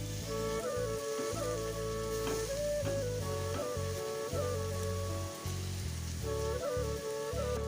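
Leafy greens hit hot oil in a pan where shrimp and fish have been fried, giving a soft, continuous crackling sizzle like light rain, quiet and steady, with faint tonal sounds running beneath it.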